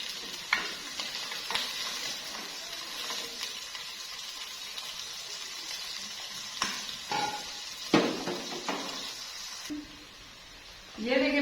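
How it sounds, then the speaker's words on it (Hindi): Onions fry in hot oil in a pot, giving a continuous crackling sizzle with scraping stirs and occasional clinks of a spoon against the pan, close and fairly quiet, before it briefly hushes near the end. "और प्याज को हम फ्राई करेंगे, इसको जो है गोल्डन ब्राउन करेंगे।"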